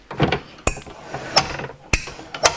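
Clamps on a mitre saw zero-clearance jig snap open in sharp metallic clicks and clunks, four distinct knocks close to the mic in a quiet workshop, with no voices.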